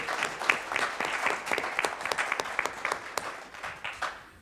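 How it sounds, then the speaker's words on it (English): A crowd at a city State of the City address applauds with steady, lively clapping that fades out toward the end. "Round of applause for the DDA"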